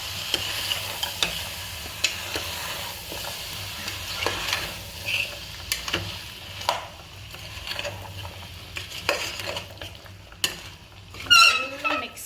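Capsicum and cauliflower stirred in a hot pan with a soft sizzle underneath, punctuated by repeated scrapes and taps of a spoon against the pan and a brief clatter near the end.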